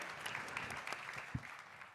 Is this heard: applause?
yes